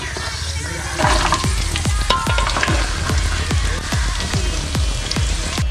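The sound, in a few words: coconut pieces frying in hot oil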